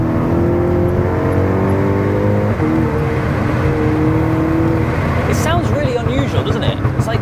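A tuned Stage 3 VW Golf GTI MK6 engine drones steadily under acceleration, its pitch climbing through the gear, with people talking over the cabin noise.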